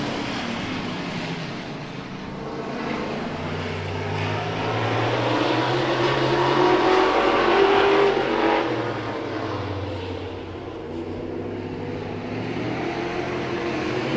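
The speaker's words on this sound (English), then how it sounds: "We're back to racing with the Thunderous Modifieds." Thunderous Modifieds race cars roaring around a track at Hobbyfest, a continuous engine drone that swells to a loud pass in the middle and then eases back, heard from a distance with no voices.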